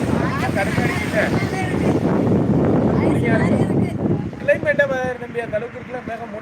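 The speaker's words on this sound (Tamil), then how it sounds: "காற்று எப்படி இருக்கு காற்று" Wind gusting through a cashew grove on the road toward Tiruvannamalai, a steady rough rumble buffeting the microphone, with someone speaking over it and the wind easing near the end.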